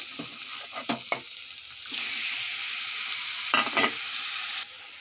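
Chopped tomatoes drop into a pan of vegetables and curry leaves frying in oil, giving a loud burst of sizzling. Several short clatters and scrapes of stirring are heard near, then the sizzle settles.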